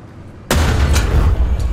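A loud, sudden artillery blast from the tank game War Thunder bursts in after near-silence and settles into a sustained heavy roar with deep low-end rumble.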